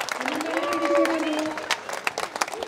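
A studio audience on a televised Indian dance show claps and cheers in a loud, dense burst, with voices and a sung or shouted tone rising over the applause before it thins to scattered claps.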